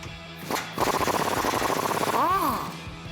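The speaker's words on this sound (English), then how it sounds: "I'm gonna take a 19mm wrench for the top of the cross member here and that 22mm socket for the bottom bolt" A fast, loud mechanical rattle runs for about two seconds as a tool drives crossmember bolts loose on a 2005-2021 Toyota Tacoma 4WD, using a 19mm wrench and a 22mm socket, with a short clack just before it starts.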